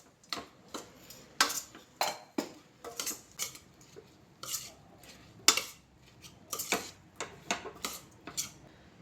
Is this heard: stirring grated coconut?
yes